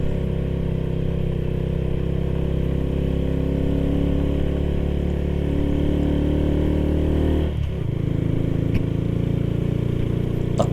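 A motorcycle engine labors up a steep mountain road in low gear, a loud, close, continuous drone that holds steady throughout with only a brief dip near the end.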